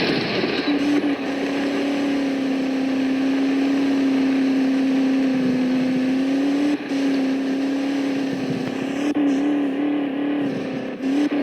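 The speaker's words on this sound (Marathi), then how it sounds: "थार रॉक्स स्मूथली वरती चढते की थार रॉक्स पण चढते" A Mahindra Thar Roxx engine in the Indian Vehicle Simulator game drones steadily as the SUV climbs a slope, holding one even, loud tone with small dips and surges near the end.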